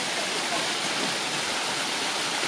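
Water cascades through a hollowed log fountain fed by a log channel beside a hiking trail. A dense, steady rushing splash continues without a break.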